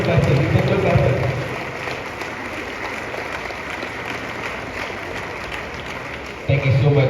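Audience clapping at an arts and enterprise summit in Kumasi, a sustained crowd of hands under an amplified voice at the start and again near the end, steady and moderately loud throughout.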